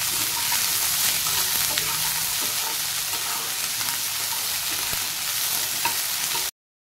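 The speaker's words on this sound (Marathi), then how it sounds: "आता हे मिक्स करून घेऊया।" Sweet corn with salt being stirred in a hot pan, a steady broadband sizzle with scraping stir strokes running continuously at close range, no voices.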